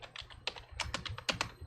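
Rapid typing on a computer keyboard during a game stream setup, a close, busy patter of keystrokes with uneven rhythm and no talk.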